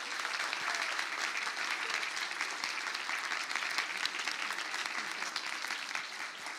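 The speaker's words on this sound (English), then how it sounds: "Please give her another round of applause, please" Steady audience applause at a school English day event, a dense, even wash of many hands clapping that holds for several seconds without a break.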